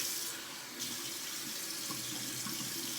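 Cold tap water runs steadily into a bathroom sink during a wet shave, a continuous close splashing hiss with a brief shift early on and no voices.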